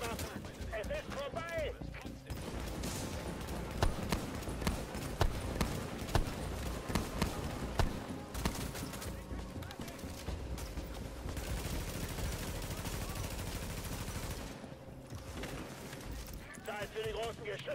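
Video game gunfire, dense bursts of rapid shots and rattling fire layered over a loud, busy battle din, continuing almost without pause.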